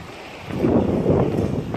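Strong wind gusts across the microphone at a bay beside a pier on a hot, humid day, a low rumbling buffet that swells midway and holds, with faint water sounds beneath.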